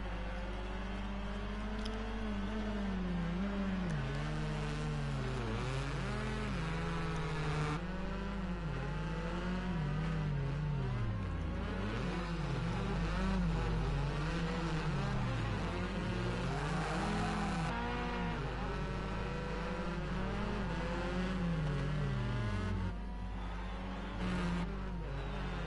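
Race car engines in the Rally Fighters video game, a continuous near drone of revving motors that rises and falls with gear changes, sustained throughout without talk.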